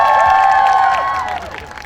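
Outdoor stage audience at a Gwanghwamun Square event applauding a singer, a broad wash of clapping and cheering that starts loud and fades over about two seconds, with crowd noise and a sustained tone underneath.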